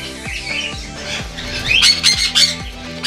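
Orange-winged Amazon parrots in an aviary giving loud, harsh squawks, close by, with rapid repeated calls and some wing flapping and rustling.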